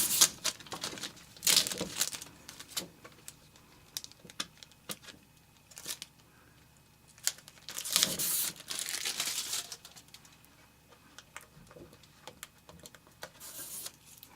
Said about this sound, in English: there is a clear protection on both sides, so you want to make sure that you go ahead and peel that off before you begin.